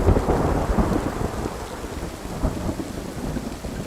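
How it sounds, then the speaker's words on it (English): Heavy tropical rain pours down steadily while thunder rumbles through a dense, loud storm, with no voices present. "tropical storms that never seem to stop"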